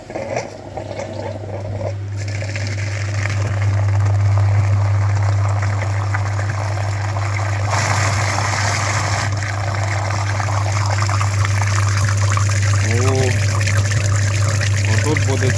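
A cooling-system flushing machine pumps liquid through the heater radiator of a Skoda A7 with an EA288 1.6 TDI diesel engine. It gives a loud, steady, low pump hum, with liquid trickling and gurgling over it throughout.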